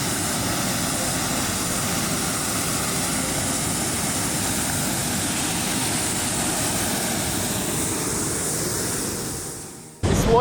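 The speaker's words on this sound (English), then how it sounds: "This water is so powerful." Powerful flash-flood water rushes along a river bank in a steady, loud roar close by that fills the scene, then briefly dips and cuts off near the end.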